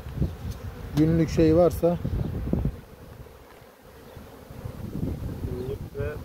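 Honeybees hum steadily around an opened beehive, close and continuous, beneath a voice speaking in short bursts.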